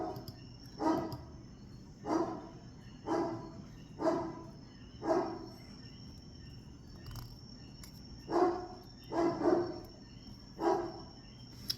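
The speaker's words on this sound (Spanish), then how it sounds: "Yo no sé si ustedes oyen al perro ladrando" A dog barks in the distance during a class, giving single muffled barks at roughly two-second intervals, with a pause and then a quicker cluster of barks against steady insect-like background hiss.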